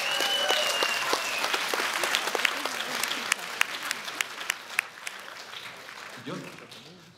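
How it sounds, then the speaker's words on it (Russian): An audience at a film premiere in Yekaterinburg bursts into steady applause, with sharp individual claps standing out over a dense wash of clapping that slowly thins toward the end. "Ваши аплодисменты"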